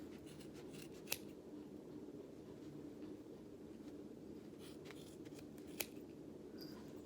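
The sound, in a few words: scissors cutting through yarn pom-pom center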